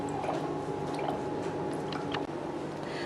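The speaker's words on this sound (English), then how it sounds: "When the water is full inside, it will come out from the overflow hole." Water spills from the overflow hole of a PL brg80 multifunction machine once it is full, a steady close watery gurgle and drip running throughout under a constant hum.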